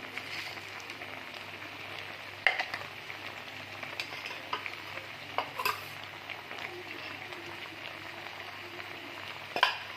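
Whole spices (asafoetida, star anise, cloves, pepper, cinnamon, black and green cardamom) frying in oil and homemade ghee, a soft, faint sizzle with scattered sharp pops and spoon clicks.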